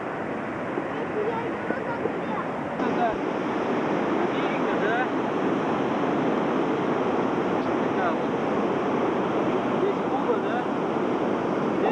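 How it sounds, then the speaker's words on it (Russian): Pacific Ocean surf on the shore near San Francisco, a continuous broad wash of waves with wind noise buffeting the microphone, steady and loud throughout. "Мы на берегу Тихого океана, рядом с Сан-Франциско"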